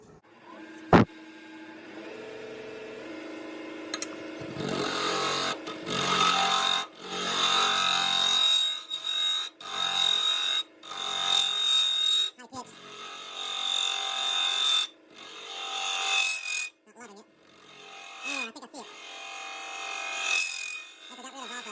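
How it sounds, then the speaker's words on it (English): A drill bit boring deeper into a wooden blank for a turned mortar, a rough grinding whine in bursts separated by brief stops, fairly loud and close. "we still got that drill bit, so we gotta go deeper still"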